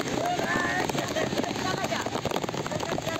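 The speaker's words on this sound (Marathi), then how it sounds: "लय जोरात पाऊस पडतोय, जोरात" Heavy rain pours outdoors in a dense, steady rush of patter and splashing, with voices murmuring faintly beneath it.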